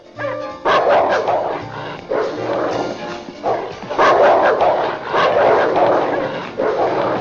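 Guard dog barking indoors at a house, with loud, close bursts of yapping barks that repeat in clusters separated by short pauses, and no talk over them.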